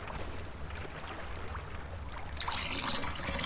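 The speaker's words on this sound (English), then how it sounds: "I'm gonna get me some water in my skins" Water trickling and splashing steadily as water skins are filled in the game Wurm Online, a continuous close liquid sound that brightens slightly toward the end.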